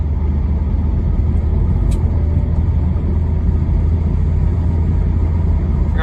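A Volvo V70R wagon with an ABS fault light on, being driven. Its engine gives a steady, loud, low rumble from inside the car, pulling through second gear with no one talking.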